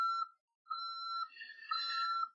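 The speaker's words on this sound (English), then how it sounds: "Sorry for the beeping you probably hear in the background." Electronic beeping tones from a truck sound alone in the background: a short beep, a pause, then longer wavering tones.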